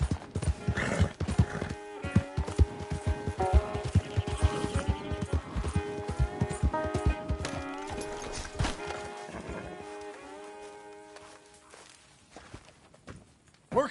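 Horse hooves clip-clopping steadily at a trot in Red Dead Redemption 2, with a neigh or two, all under a swelling orchestral score that fades out near the end.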